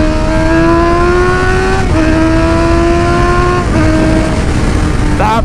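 A 2020 Honda CB1000 motorcycle accelerates hard up close, its engine note climbing steadily, dropping sharply at two gear changes and then climbing again. It stays loud and uninterrupted throughout.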